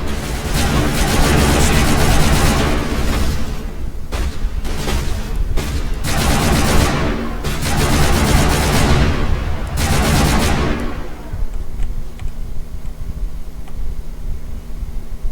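Sniper rifle fire in the Mass Effect video game during an indoor fight, several loud, dense booming shots and bursts over about ten seconds, then a quieter stretch of lingering rumble.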